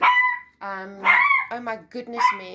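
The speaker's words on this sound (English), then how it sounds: "excuse my dog, I'm really getting fed up with my dog now." A dog barks and yips in several sharp bursts close by, mixed in with someone talking over and between the barks.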